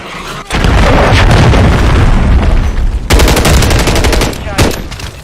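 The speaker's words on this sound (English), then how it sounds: "Hostile cruise missile." A cruise missile strike in a video game sets off loud, close booming blasts amid dense, continuous machine gun fire, with a fresh surge of rapid crackling shots later on.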